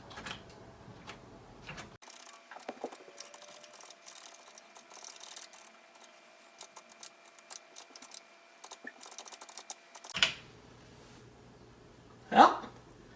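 Keys clattering on a Tandy CoCo 3 home computer keyboard, a run of quick irregular clicks and taps heard up close, with a few louder knocks near the end.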